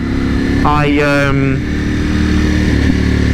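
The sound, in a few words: Ducati Panigale V4S motorcycle riding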